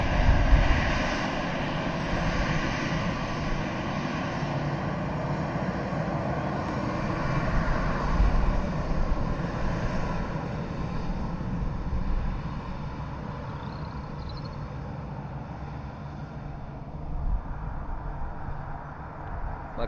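An airliner at Dublin Airport roars steadily at a distance, a broad, sustained engine rumble that holds for about twenty seconds with a slight swell near the end, with no voices over it.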